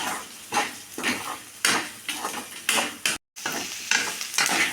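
Chana dal and spices fry in a pan, a steady sizzle cut by rhythmic scraping strokes of a spoon against the metal, one after another, with a momentary break near the middle.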